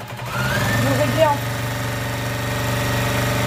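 A Juki TL2300 Sumato semi-professional sewing machine stitches fabric with a close, steady motor hum and rapid needle pulsing that runs continuously throughout.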